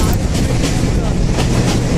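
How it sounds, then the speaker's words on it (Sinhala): A passenger train rolls steadily near Kadugannawa, heard from inside the carriage as a loud continuous rumble with faint rhythmic clatter of the wheels. "මේ ට්‍රේන් එක යන ගමන් ඉන්නේ"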